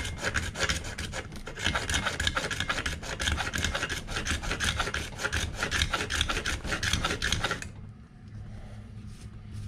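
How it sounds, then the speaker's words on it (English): A homemade flat skid plate for a Redcat Gen 8 Scout RC crawler scraped back and forth across a surface, giving a steady close rasping rub for several seconds before stopping abruptly. "Scrape this across."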